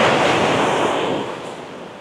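Large ocean waves break and wash onto a black sand beach in Tenerife, a loud close rushing surf roar with wind that eases slightly after the first second.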